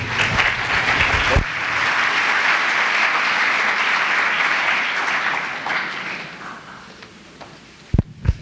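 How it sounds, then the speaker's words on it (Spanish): A seminar audience gives a speaker, a doctor, a full welcoming round of applause at a historical-religious seminar. It is loud and sustained for several seconds, then tapers off, followed by a few sharp knocks at the end. "escuchamos la ponencia del doctor Trillo, a quien recibimos también con un fuerte aplauso."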